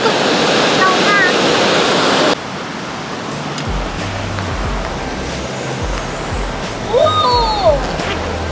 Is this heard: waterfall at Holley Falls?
yes